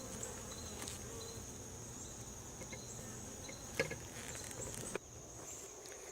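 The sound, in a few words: bees buzzing around hive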